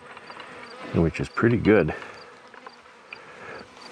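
Honey bees buzz around a pallet hive in a steady, moderately close drone, while someone talks over them in a short burst.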